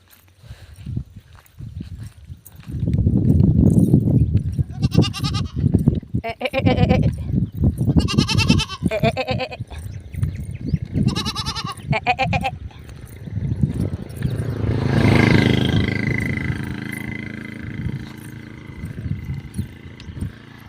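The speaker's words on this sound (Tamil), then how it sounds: "ஆடு கத்துது" Goats bleat again and again outdoors, several loud nearby calls in an irregular series, with faint footsteps and shuffling underneath.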